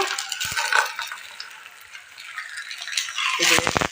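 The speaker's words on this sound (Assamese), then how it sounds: "ল' টু মিডিয়ামত ৰুটিটো ভালদৰে ভাজি ল'ব লাগিব।" A semolina (suji) roti frying in ghee in a pan over low to medium heat, a steady soft sizzle with scattered clinks and scraping handling noises, louder near the end.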